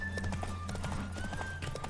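A galloping horse in the game Witcher 3 gives a fast, even clip-clop of hooves from start to end, close and steady beneath sustained musical tones.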